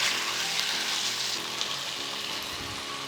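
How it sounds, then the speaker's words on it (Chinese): Diced marinated chicken pieces fry in hot oil in a wok, giving a steady, close, fairly loud sizzle with faint crackles and no talking. "锅中倒点油，腌好的鸡丁搁进去，摊开，尽量让它有煎的感觉。"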